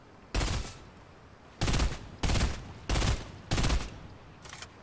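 Gunfire in Fortnite, heard alone: five loud, close bursts of rapid automatic shots about half a second each, separated by short pauses, then a fainter sixth burst at the end.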